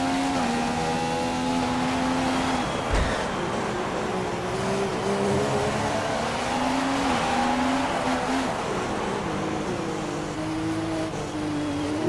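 A Formula 1 car in a racing video game set at Monaco screams at high revs, the engine note climbing and dropping through gear changes and corners, loud and continuous with no talk.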